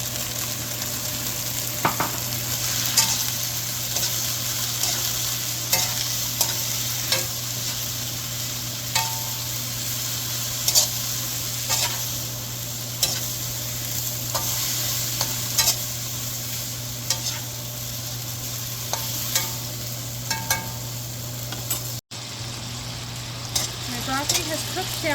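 Broccoli stir fry with sauce sizzling steadily in a hot pan, a continuous close frying hiss with scattered crackles and stirring clicks throughout, no one speaking.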